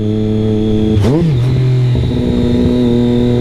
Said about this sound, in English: It's when you bring the revs up, when you blip the throttle